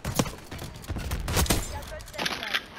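Shotgun blasts in the Black Ops 6 beta multiplayer shooter, several sharp booming shots scattered across the moment amid other game gunfire and effects, fairly loud and close.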